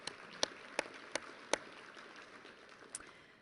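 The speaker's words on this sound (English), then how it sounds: "You guys need to give yourselves a round of applause for that." At an awards ceremony, a small, faint scattering of claps sounds across a quiet room, with only a handful of distinct, spaced-out hand claps rather than full applause.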